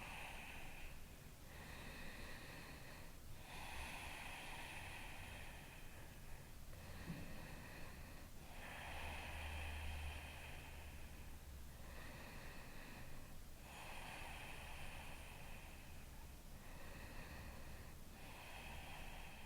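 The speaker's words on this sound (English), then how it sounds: "And breathe 5 deep breaths." Slow, deep breathing during a yoga back stretch after a gym workout, several long even inhales and exhales in a steady rhythm, close and soft with no talking.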